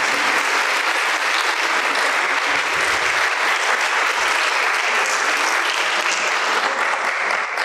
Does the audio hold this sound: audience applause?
yes